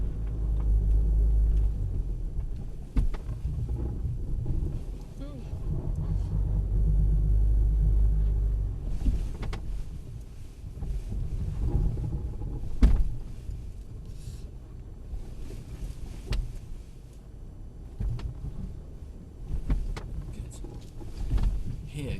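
A Mercedes car crawls slowly over off-road elephant steps, its engine rumbling low and steady with occasional thumps and creaks as the wheels climb, under wind noise and intermittent talk.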